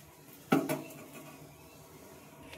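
A utensil stirs rice in curry gravy in a pot, with one sharp clank against the pot followed by a softer scrape, then a quiet simmering background.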